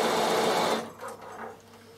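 A Bernina sewing machine zigzag stitches wool felt, running fast and close for under a second before slowing and stopping, leaving faint mechanical clicks.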